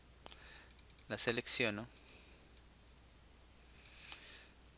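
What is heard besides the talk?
computer mouse clicks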